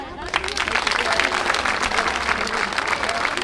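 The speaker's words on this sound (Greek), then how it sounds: "Από την καρδιά μας και ένα χειροκρότημα πάλι" An audience applauds at a charity event evening, a dense, loud sustained clapping with a crowd murmur mixed in, holding steady from start to finish.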